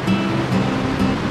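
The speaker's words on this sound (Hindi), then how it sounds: "ये खूबसूरत नदी आ रही है ऊपर से," A mountain river rushes down from higher ground near Dhanaulti, Uttarakhand, a steady loud broadband roar of flowing water with no voices.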